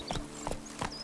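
Roach the horse galloping in The Witcher 3, three evenly spaced clip-clop hoofbeats at a quick rhythm, fairly faint, with no talk over them.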